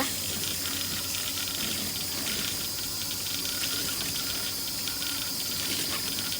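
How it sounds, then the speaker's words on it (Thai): A sponge is rinsed of soap foam under a running tap, giving a steady, close hiss and splash of flowing water that continues unbroken throughout. "เราก็ต้องล้างเอาฟองออก ให้หมดจากฟองน้ำด้วยนะคะ"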